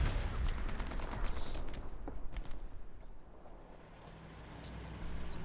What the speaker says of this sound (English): Blind fire by the tank.